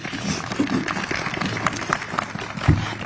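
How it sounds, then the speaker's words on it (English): An audience at a press conference applauds the delegates, scattered clapping spread over a few seconds at moderate volume with some murmuring beneath. "We can give them a round of applause."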